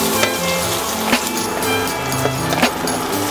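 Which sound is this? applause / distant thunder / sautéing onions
sautéing onions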